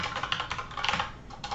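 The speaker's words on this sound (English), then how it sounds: "then you can just start typing." Fingers typing on a computer keyboard, a quick run of light clicking keystrokes in close succession, close and fairly quiet, with no talking.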